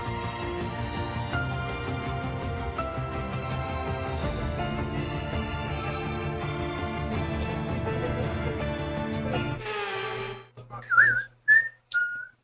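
A person whistles a short tune in bursts near the end, after a long stretch of loud background music, in an F1 22 racing game session.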